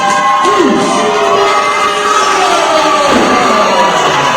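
A loud, dense crowd roars and cheers for a hometown wrestler at a tag-team match inside Eastfield Mall in Springfield, Massachusetts, with children shouting and whoops rising throughout, steady and close from start to finish.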